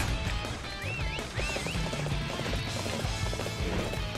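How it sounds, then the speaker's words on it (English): A horse in the Dynasty Warriors 8 Empires video game gallops in with quick clip-clop hoofbeats and a short neigh, fairly close and faint, set over game effects and no voice. "have your horse come running towards you"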